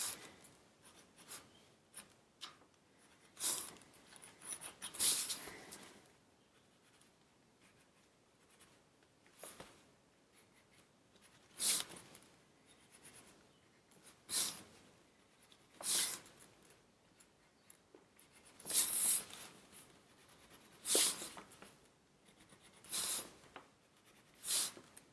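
A black pencil drawing and enhancing lines on paper, close scratchy strokes arriving in repeated short bursts separated by quiet pauses.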